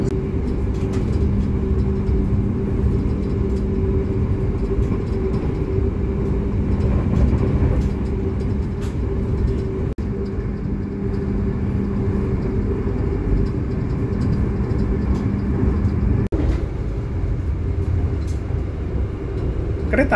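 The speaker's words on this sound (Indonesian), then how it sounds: "Kereta api Argo Wilis mulai melaju kencang" Argo Wilis passenger train on the Kereta Api Indonesia line near Mojokerto, with a steady loud rumble and drone of cars rolling at speed throughout, faint voices in the background.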